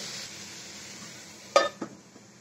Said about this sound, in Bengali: এখন আমি ঢাকনা দিয়ে দিচ্ছি।